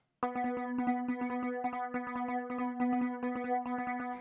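A random arpeggio sequence from a free software synthesizer, rapid repeating plucked notes over a steady drone tone, bright and processed with chorus and distortion, heard alone without any talk.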